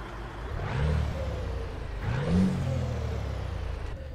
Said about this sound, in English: a sound pack for this DAF, which is by Baum